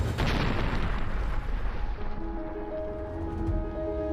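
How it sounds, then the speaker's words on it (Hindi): A hand grenade explosion, one loud deep boom that erupts at once and rolls on as a long rumbling decay with a faint ringing tail, heard alone. "एक हथगोले से धमाका हुआ।"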